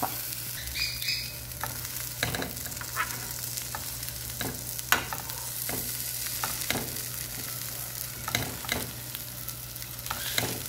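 A sandwich toasting in a frying pan, a steady crackling sizzle with occasional scraping and tapping from a utensil, close and continuous without speech.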